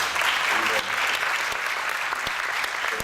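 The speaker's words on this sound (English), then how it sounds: "Can you give them a round of applause?" A conference crowd applauds steadily, a full wash of clapping with a few sharper individual claps standing out, continuing throughout.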